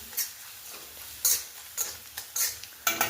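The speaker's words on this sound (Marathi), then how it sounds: "तर मी हे आधी हलवून घेते म्हणजे खोबरं करपणार नाही आपलं." Grated coconut is stirred in a pan so it does not burn, with a series of short, separate scraping strokes of a spoon against the metal, fairly quiet and spaced irregularly.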